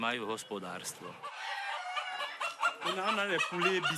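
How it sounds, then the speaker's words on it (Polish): Several African chickens on a farm clucking and calling up close, a busy overlapping chorus of short, harmonic squawks with barely a pause. "Tu hodujemy typowo afrykańskie kury. Mamy ich wiele. Są wszędzie."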